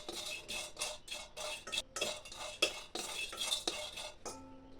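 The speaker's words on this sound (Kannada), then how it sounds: "ಈಗ ತೊಗರಿಬೇಳೆ, ಕಡಲೆಬೇಳೆ ಎರಡನ್ನೂ ನಾನು ಹುರಿತಾ ಇದ್ದೀನಿ." Toor dal, chana dal, cinnamon and cloves are dry roasted in a pan without oil, with quick, rhythmic scraping and rattling stir strokes, close and crisp, before a brief metallic ring at the end.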